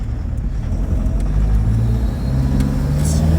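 Toyota Hilux with a 1KD diesel engine, heard from inside the cab on a road test drive: a steady low engine drone that swells slightly as it pulls, loud and continuous with no talking.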